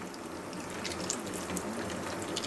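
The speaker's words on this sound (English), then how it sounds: "sometimes you could do this under running water, just a little bit of a drizzle" A kitchen tap runs in a light, steady drizzle over roasted red peppers being peeled, a continuous splashing wash with faint handling sounds mixed in.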